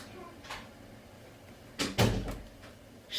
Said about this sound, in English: Close that door for me, okay?